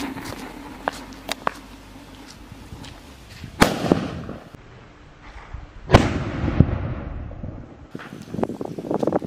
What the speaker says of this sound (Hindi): कुछ इस तरीके से यहाँ पर ये सूतली बम जला है